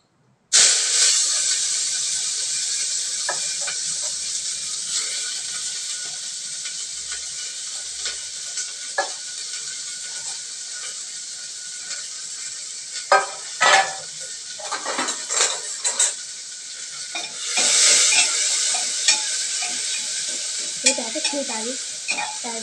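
Asafoetida, chopped onion and chili frying in hot oil while being stirred, a steady close sizzle and hiss with scraping stirs against the pan growing busier toward the end, no voices.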